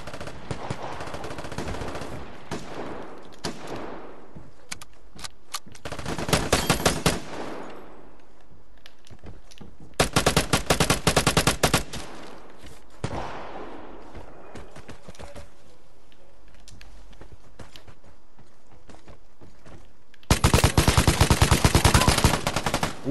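A new weapon in the video game Vigor fires in loud rapid automatic bursts, several separate volleys of dense crackling shots with quieter gaps and echoing tails between them.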